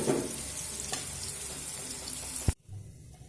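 Potato and pumpkin pieces fry in oil over a medium flame with a loud, steady sizzle, then a sharp knock as they are lifted out and the hiss drops away to a faint simmer.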